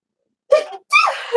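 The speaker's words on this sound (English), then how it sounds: "So I'm like gonna sneeze again." A single sharp sneeze bursts out close by after silence, with a short intake before it and a breathy trailing sound after.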